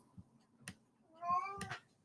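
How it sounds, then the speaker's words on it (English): A cat meows loudly indoors, a few short complaining calls followed by a longer drawn-out caterwaul, close and clear against a quiet room. "I have a cat coming to visit me, complaining loudly"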